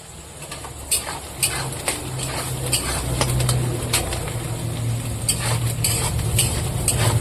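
Onions fry with a little salt in a pan, a steady sizzle under repeated scraping and clinks from a spoon stirring against the metal.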